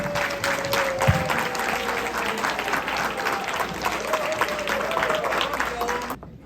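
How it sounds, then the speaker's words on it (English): An audience at a 2023 International Women's Day awards event breaks into sustained applause to welcome an honoree, a dense steady wash of clapping lasting about six seconds before cutting off abruptly. "Everybody please give a warm welcome and applause to Joan Lee"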